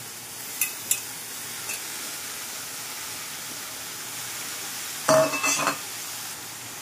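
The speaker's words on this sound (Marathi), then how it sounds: "मस्त फ्राय करणार। खालची भाजी वरती घ्यायची" Chopped dill greens with salt and green chillies are stir-fried in a pan with a soft continuous sizzle and a few scattered spatula clanks, including a louder clattering burst near the end, with no talk.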